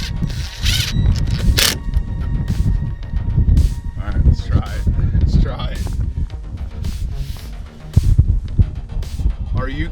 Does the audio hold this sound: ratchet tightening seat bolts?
yes